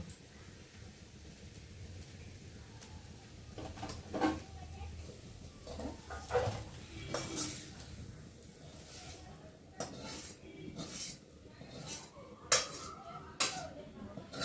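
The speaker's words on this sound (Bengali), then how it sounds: "এখন আমি আলু ভাজাটাকে নাড়িয়ে নেব" Fried potatoes are stirred in a pan, with faint scraping and scattered clinks of utensil against metal coming in irregular bursts over a quiet kitchen background.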